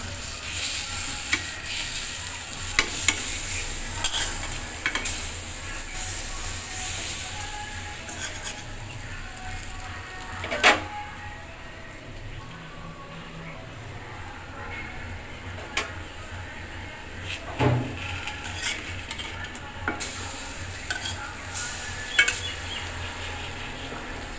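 Palm fritters frying in a small amount of oil, on banana leaves, make a steady soft sizzle, with scattered sharp ticks and pops over a long stretch and no voices.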